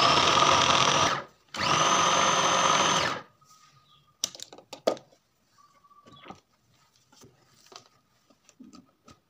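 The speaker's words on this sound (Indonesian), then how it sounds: "Lanjut saya juga menambahkan 4 buah sosis yang sudah dipotong menjadi 3 bagian, ini kita chopper bersamaan ya" An electric food chopper whirs loudly in two bursts while chopping shredded chicken with sausages cut into thirds, then stops, followed by scattered clicks and light handling knocks.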